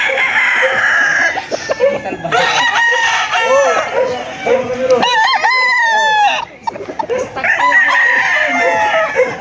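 Several roosters crow loudly and repeatedly, with hens clucking in between, a busy close-up farmyard chorus with a short lull near the end.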